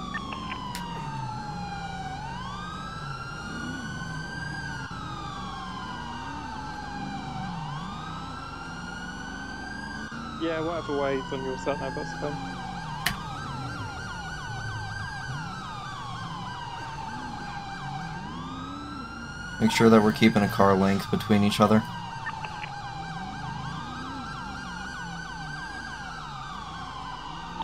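Sirens on a 9/11 memorial convoy cycle steadily in long rising and falling wails throughout, with a radio voice giving instructions in two short bursts over the continuous tone.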